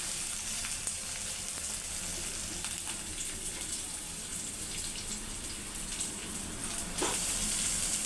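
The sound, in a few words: onion and tomato frying in a pan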